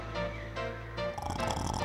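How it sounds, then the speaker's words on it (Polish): Cartoon snoring from someone asleep inside an office in a children's animated factory setting, a looping, wheezy rumble that swells and fades across about two breaths, loud and close with busy background music and effects. "w środku ktoś chrapał"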